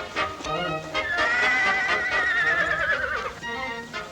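A horse in an old 1947 Western lets out a long, loud whinny that rises and then wavers downward. Faint hoof clops are heard around it.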